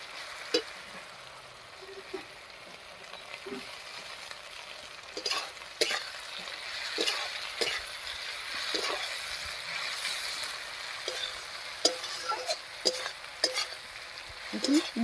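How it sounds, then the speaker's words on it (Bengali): Brinjal fries in fish oil in a pan, with a soft continuous sizzle and repeated close scraping clicks from a spatula stirring it throughout. "মাছের তেলে বেগুনটা ভাজা হয়ে দেখুন কতটা কমে গেছে আর একেবারে নরম হয়ে গেছে"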